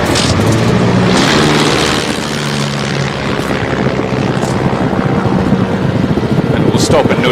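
A WWI-era biplane's engine throttles back up during its landing approach, a rough propeller drone running steadily throughout, close and loud, with someone narrating over it.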